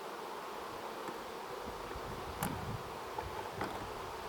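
Honey bees at a hive drone in a steady, soft buzz that holds throughout, a close insect hum with a few brief rustles and no voices.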